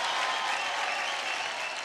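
A studio audience on the TV singing show Indian Idol applauds with steady, dense clapping that stays loud and even throughout.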